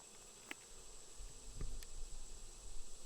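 Honey bees hum and buzz steadily around an open hive while frames are being pulled, a soft continuous drone with a few closer passes and faint handling noises.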